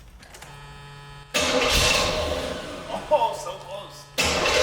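Old car engine cranking with a whirring starter and failing to catch, loud and close, in bursts broken by a short pause; a voice speaks briefly over it.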